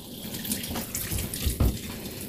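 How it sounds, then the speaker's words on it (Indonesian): Water from a hose splashes and gushes into the tub of an Electrolux top-load washing machine being filled by hand, a close, steady running-water sound with small surges. "Kita isi airnya secara manual dulu."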